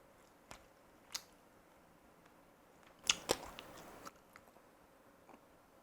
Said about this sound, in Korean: 아그작 소리 들어갔을 거예요